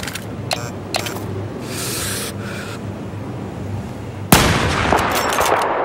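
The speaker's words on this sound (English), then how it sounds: "Ah, machine gun!" Machine gun fire in the video game Battlefield 4 rattles as a few sharp bursts early on, then a sudden loud, sustained roar of gunfire takes over, close and dense.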